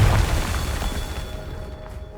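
A booming Confringo explosive spell in Hogwarts Legacy, a single deep burst at the start that rumbles and decays over about two seconds.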